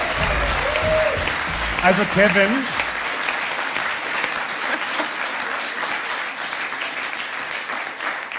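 Applause for singers swells briefly at a live show, loud clapping under a voice speaking, then fading into a softer, sustained patter of a crowd clapping.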